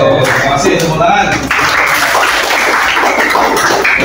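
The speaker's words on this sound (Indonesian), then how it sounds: "masih tepuk tangan" Classroom audience clapping during an Islamic lesson, a continuous mass of hand claps that lasts the full stretch, close and fairly loud, with voices mixed in among the applause.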